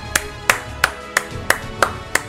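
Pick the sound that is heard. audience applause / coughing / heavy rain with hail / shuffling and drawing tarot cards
audience applause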